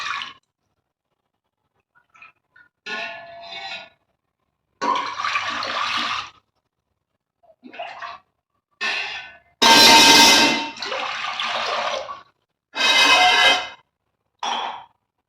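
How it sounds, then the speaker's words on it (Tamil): Water poured into a pressure cooker sitting on the stove for cooking green gram dal, heard as several separate splashing pours of a few seconds each with silent gaps between, close and clear. "இப்போ தேவையான தண்ணி சேர்த்துக்கலாம்"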